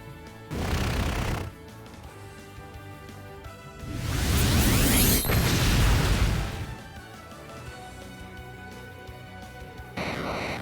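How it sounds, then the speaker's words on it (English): Pokemon Let's Go Pikachu battle with Voltorb using Explosion: a short burst early on, then a long, loud blast lasting about two seconds, with another burst at the very end, set over game music. "this Voltorb just used Explosion"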